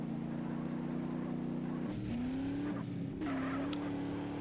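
Car in an online police-chase video game drifting through curves, a steady engine drone bending in pitch as the tires skid and squeal, loud and continuous with no talk.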